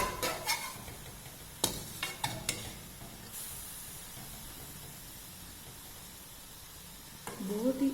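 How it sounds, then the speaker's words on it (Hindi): Carrot halwa is scraped and stirred in a pan in a few sharp, separated strokes over a low steady hiss, and a faint voice comes in near the end. "उतनी देर तक इसको हिलाते रहें ताकि ये नीचे लगे ना।"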